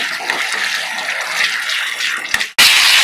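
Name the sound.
boiled water being poured into the pan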